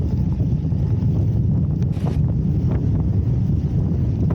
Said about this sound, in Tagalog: Lakas na ng hangin, salubong sa atin ng hangin.